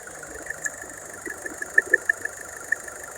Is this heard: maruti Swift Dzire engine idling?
yes